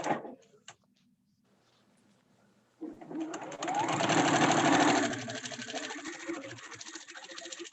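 A sewing machine runs a zigzag stitch during a paper piecing class, starting with short bursts and then settling into a steady, busy mechanical whirr that swells loudest midway before easing off.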